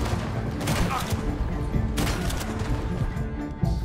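Rapid gunfire in Red Dead Redemption 2, played in first person: a dense burst of close, loud shots with sharp cracks around the one and two second marks over ongoing noise.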